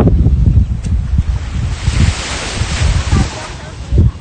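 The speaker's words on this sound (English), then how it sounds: "Wow, it's very windy." Strong wind buffeting the microphone in heavy gusts at Repulse Bay Beach, with surf washing in the background and a voice speaking briefly.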